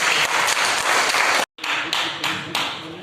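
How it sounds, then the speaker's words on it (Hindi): Dense applause from an audience at a Vande Mataram foundation event for a Ram Mandir silver brick donation, steady and loud, broken by a brief cut, then resuming with a few stronger bursts. "तालियां बजाकर।"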